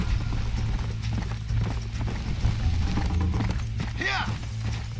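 Steady, rhythmic hoofbeats of a horse galloping in Red Dead Redemption, continuous and fairly loud across the clip, with game music and a brief whinny-like sweep near the end.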